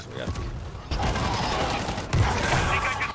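Steady bursts of rapid gunfire and explosive crackle from the video game World War Z run throughout. Combat noise is loud and continuous, with voices faintly mixed in.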